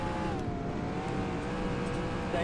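Race car engine in the NASCAR Racing 2003 video game, a steady, close, droning whine that holds level, with the pitch rising slightly toward the end.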